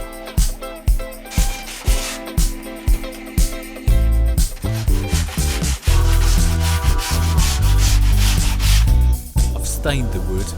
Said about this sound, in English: I'm just going to round the edge of the wooden edging with this medium sandpaper.